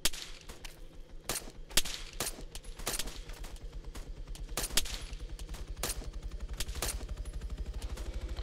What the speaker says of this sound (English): Taking lots of fire